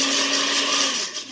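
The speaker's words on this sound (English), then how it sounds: "Blend it for 15 seconds." A blender blending split peas with cold water whirs loudly and steadily up close, its motor droning with a slight dip near the end.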